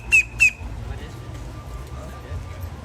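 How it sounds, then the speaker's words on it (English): Two quick, shrill bird squawks ring out close by at the start, then fade into a low murmur of crowd noise at Epcot's Flower and Garden Festival. "Oh, birds."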